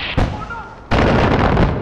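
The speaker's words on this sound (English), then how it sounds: "the mortars are just gonna hit the house" Mortar rounds strike a house in the video game Far Cry 4. Two sharp, loud booming impacts land close together, the second longer and rumbling, with no talk over them.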